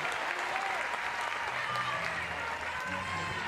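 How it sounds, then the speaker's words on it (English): At a college softball championship game, the ballpark crowd gives a sustained, moderately distant round of applause, a steady wash of clapping with low crowd murmur beneath. "Just bit of a sarcastic applause there from the crowd"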